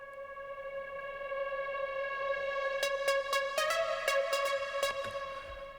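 A synth note holds steady and quiet, with a reverse reverb swell building around it. Sharp percussive ticks flicker in over the second half, no voices.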